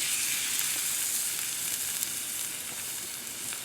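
Seasoned red snapper fillets on a very hot grill give off a steady, dense sizzle throughout, close and alone without talk.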